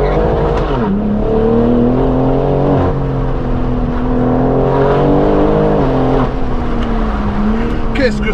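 A BMW M4 fitted with a full straight-through exhaust accelerates hard with a loud, raspy engine note from inside the car. The pitch climbs and drops through the gear changes.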